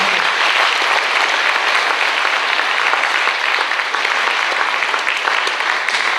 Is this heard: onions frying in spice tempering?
no